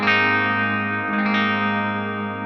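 Electric guitar with effects and distortion ringing out a sustained chord while the pickup selector is flicked through series, parallel and single-coil settings, with a brief tonal shift midway; no talk.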